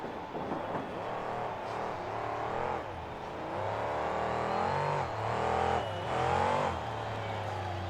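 A monster truck engine roars and revs continuously at close range during a freestyle run at a KORR Monsters final, launching off a garbage truck past bus stacks and shipping containers, its pitch surging and dipping with no talk over it.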